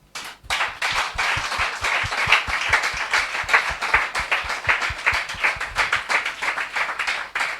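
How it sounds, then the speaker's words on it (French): A standing church congregation claps in praise, a fast, even rhythm of sharp hand claps about three per second that carries on close and lively for several seconds, with faint voices mixed in. "Tenons-nous debout et acclamons le Seigneur"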